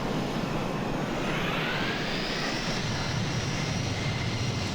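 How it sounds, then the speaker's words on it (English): C-17 Globemaster III jet engines spool up to full power in Microsoft Flight Simulator 2020, a loud, steady roar with a rising whine through the whole stretch and no voices. "Here comes the power."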